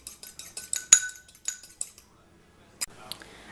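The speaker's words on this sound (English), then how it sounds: "So basically, you just want to scramble it like this." A fork or whisk clinks briskly against a bowl while an egg is scrambled, a quick run of sharp taps that stops after two seconds, then a couple of isolated knocks.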